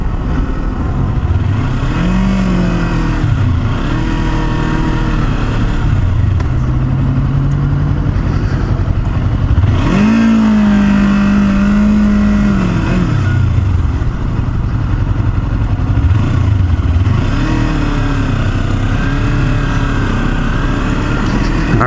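A Kawasaki Versys-X 300 motorcycle engine drones loud and close on a road test ride, rising and falling as the rider shifts through gears and revs, over steady wind roar.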